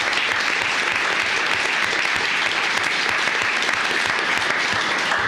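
Audience at a commissioners court meeting applauding employees, a steady, dense wash of clapping that stays loud and even throughout with no talk over it.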